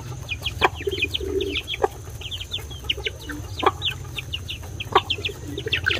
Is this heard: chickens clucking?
yes